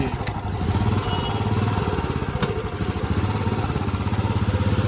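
A Royal Enfield Bullet motorcycle with an open silencer thumps at a fast, even idle, its loud, close exhaust beat pulsing steadily throughout with slight clattering.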